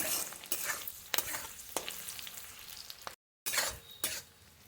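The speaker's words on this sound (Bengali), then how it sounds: "পেঁয়াজগুলো ভাজা হয়ে গেছে" Onions fry in oil in a pan, sizzling steadily as a spoon stirs them in repeated scraping strokes, with a short silent break before the sizzle returns.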